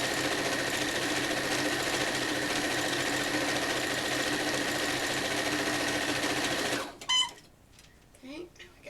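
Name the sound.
sewing machine stitching quilt rows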